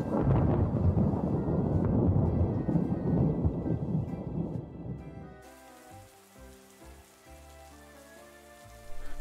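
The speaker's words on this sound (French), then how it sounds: "Soudain, il commence à pleuvoir." Steady rain pours and patters loudly with a low thunder rumble, used as a sound effect as rain begins to fall in a French beginner's story, then fades out as soft music takes over.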